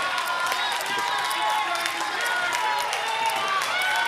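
A dense roar of fans cheering and clapping around a poker final table at a WPT event, steady and loud for the whole stretch, with voices talking through the crowd noise.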